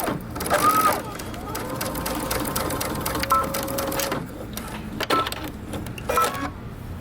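A sewing machine stitches across the bottom of a fabric band, its motor whirring in short bursts of a few seconds each, separated by brief pauses.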